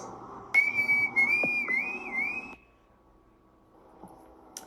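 A cartoon character whistles a bright, wavering tune loudly and up close for about two seconds, then stops abruptly, leaving a faint low hum and near quiet.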